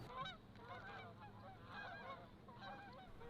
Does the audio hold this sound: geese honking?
yes